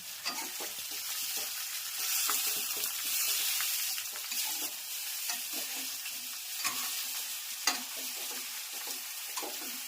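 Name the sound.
sesame seed tempering sizzling for patra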